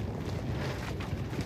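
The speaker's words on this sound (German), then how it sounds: "Wegen des starken Windes und der Kälte kann man hier kaum atmen." Strong, cold wind blowing across an exposed spot makes a dense, low rumbling roar that buffets the microphone without pause for about a second and a half, with no voices.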